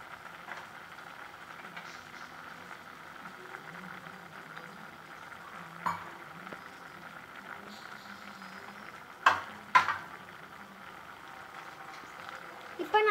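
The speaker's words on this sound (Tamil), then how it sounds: "இப்போ குழம்பு நல்லா கொதிச்சிருக்கு." A pot of kathirikkai sundal puli kulambu, an eggplant tamarind curry, simmers with a faint, continuous bubbling, broken by a few sharp clicks and knocks near the end.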